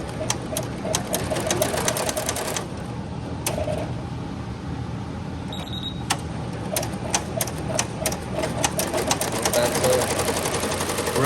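An embroidery machine stitches a hat at full production speed, giving a steady rapid mechanical chatter with sharp periodic clicks and thread-trim snaps throughout, fairly close and alone without talk.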